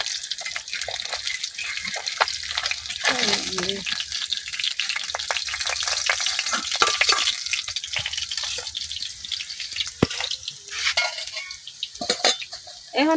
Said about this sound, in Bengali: মাছগুলো কিন্তু আমি উল্টা পাল্টায় ভাজা নিছি।